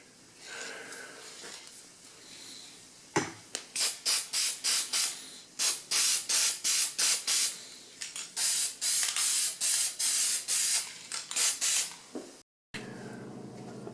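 Gloss lacquer sprayed from an aerosol can onto a small wooden Christmas tree ornament, heard as roughly fifteen short, loud hissing bursts in an irregular rhythm with brief pauses between them, close to the microphone.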